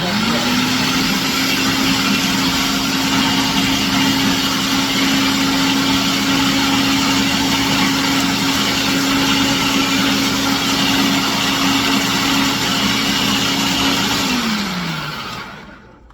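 Food processor whirring steadily as it blends layered taco dip ingredients, a loud continuous motor drone with a tone that holds then drops as it spins down at the end.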